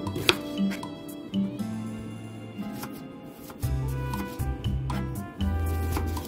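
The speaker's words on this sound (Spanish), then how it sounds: "Ahora voy a hacer, como les dije, media cebolla nada más. La cual vamos a hacer también en juliana." A knife chopping half an onion into thin julienne strips on a board, soft irregular cutting taps in short runs, close and quiet, mixed with faint background hum.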